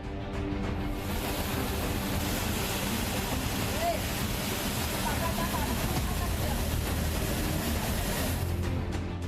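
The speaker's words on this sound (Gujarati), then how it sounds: "ગામ વચ્ચેથી પાણીનો અધધ પ્રવાહ વહી રહ્યો છે" Floodwater rushes loudly and continuously through the middle of a village during heavy rain, a dense, roaring wash of water that stays constant throughout, with wind buffeting the microphone.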